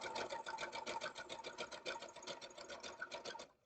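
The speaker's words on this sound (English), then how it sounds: "And then start your sewing." Sewing machine stitching trapezoid and diamond fabric pieces for a Hunter Star quilt in a steady, rapid needle rhythm, continuous and close for a few seconds before it stops.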